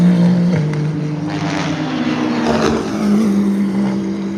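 Race car engines at night trackside at the Le Mans race, a steady loud drone with a rising and falling pitch as cars pass, a sustained tone shifting upward near the end, with no talk.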